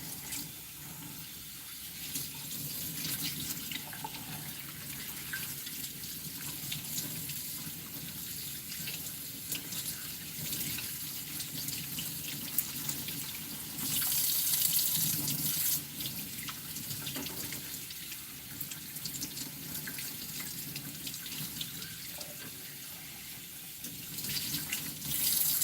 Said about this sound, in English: And we'll make sure I get plenty of water down inside.